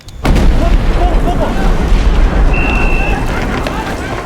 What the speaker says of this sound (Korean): 그때 갑자기 폭발 소리가 들려오고